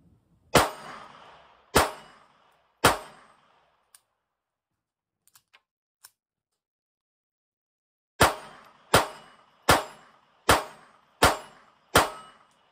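Ruger LCP II .22LR pistol shooting old Federal bulk ammunition, three sharp shots, a pause with faint clicks, then six more sharp reports in a steady rhythm, close and loud.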